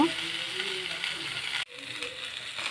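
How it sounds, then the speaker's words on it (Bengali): Pieces of shol (snakehead) fish frying in a pan, with a continuous close sizzle, a brief sharp cut partway through, and faint speech underneath. "কত সুন্দর লাল লাল করে ভাজি করছি"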